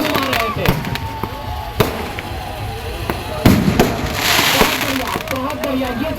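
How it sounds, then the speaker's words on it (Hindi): A spinning firework wheel (charkhi) burns at a fair's fireworks display, giving a continuous loud fizzing crackle punctuated by sharp pops and bangs, with people talking over it. "बहुत बढ़िया, ये चरखी जोरदार चल रही है।"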